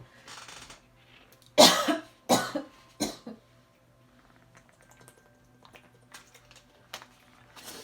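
Three or four harsh coughs in quick succession, close and loud, after a soft rustle, followed by quiet clicks and faint handling noises.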